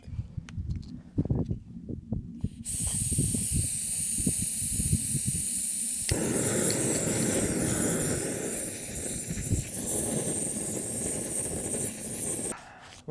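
A BRS camping stove burning under a pot at a summer wild camp at Bleaklow Stones in the Peak District. After some close clattering, it gives a steady, loud roaring hiss for about ten seconds, then cuts off abruptly.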